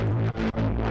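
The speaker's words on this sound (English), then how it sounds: "Distortion." ASM Hydrasynth synthesizer played through a distortion effect: a loud, sustained buzzing tone in three swells with brief dips between them, heard alone.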